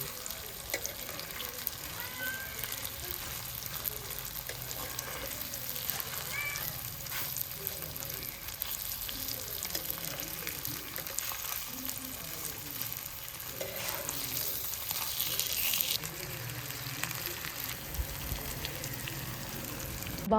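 Fish fries steadily in a pan over a village cooking fire, a continuous close sizzle and crackle with faint stirring and watery clatter, no talking.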